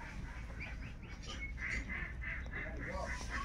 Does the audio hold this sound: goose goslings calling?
yes